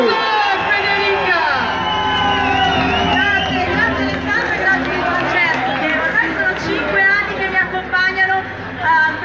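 An outdoor crowd at a stage show in Arconate cheers loudly, with many shouting and whooping voices and lively chatter layered together close by.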